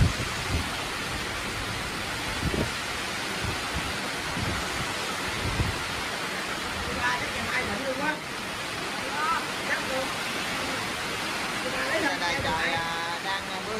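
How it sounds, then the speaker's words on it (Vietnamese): Heavy rain pours down steadily, a dense roar loud and close, with a voice speaking faintly under the downpour. "Bây giờ trời đang mưa quá, trời mưa rồi đó."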